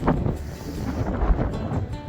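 Strong wind on a hilltop beside Jomsom airport in Mustang, Nepal, buffeting the microphone with a steady loud low rumble and gusty surges, no voices.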